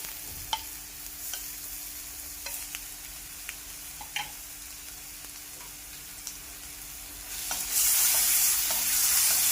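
Green chili paste sautéing in a pan, a soft steady sizzle broken by periodic spoon taps and scrapes against the metal, then a sudden louder hiss near the end as the frying intensifies; no talking.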